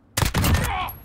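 Gunfire from the Call of Duty Modern Warfare video game: a quick burst of several rapid, loud shots at close range, followed by a short ringing tail.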